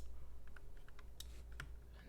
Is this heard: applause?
no